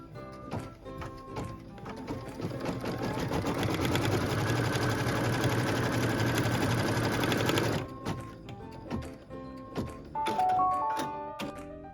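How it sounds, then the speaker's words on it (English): Sewing machine running steadily through a stitch line on a pieced quilt block, a continuous dense mechanical whir for about eight seconds, close and fairly loud, followed by brief clicks and handling sounds. "we're going to go ahead and stitch the first stitch line"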